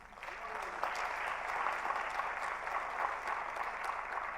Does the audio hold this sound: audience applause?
yes